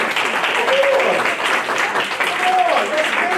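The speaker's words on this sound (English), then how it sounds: "Did I hear claps? Yeah, clap for that." A conference audience at a New York State partnership session applauds together in a dense, sustained wash of clapping that stays steady throughout, with murmured voices underneath.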